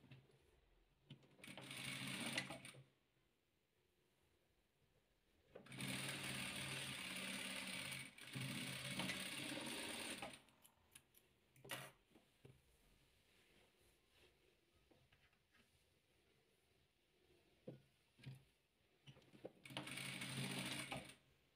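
A sewing machine stitches patchwork quilt pieces for a star-pattern quilt in loud whirring bursts, a short run, a longer sustained run, a few brief taps, then another burst, with quiet pauses between.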